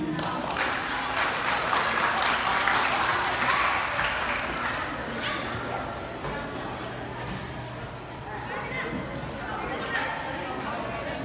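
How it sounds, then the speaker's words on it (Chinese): A school audience applauds after a student martial arts performance, sustained clapping from a crowd that swells and then gradually thins, with murmured chatter mixed underneath. "掌声欢迎。"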